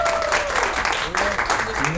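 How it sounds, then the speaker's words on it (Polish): An audience claps at a Polish talk and Q&A event as a guest comes on stage: dense, even applause runs the whole time, with voices mixed into it. "Oklaski!"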